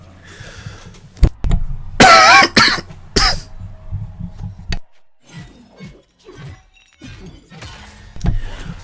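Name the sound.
cough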